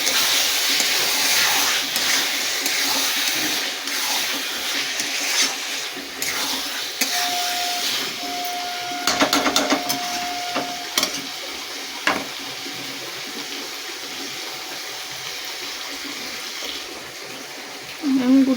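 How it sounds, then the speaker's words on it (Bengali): Chicken curry meat is sautéed in a pan, giving a steady broadband sizzle close by, with stirring scrapes and a few sharp clinks against the pan partway through, continuous without pause and no voice over it. "আবারও মাংসটাকে ভালো করে কষিয়ে নেবো আমি।"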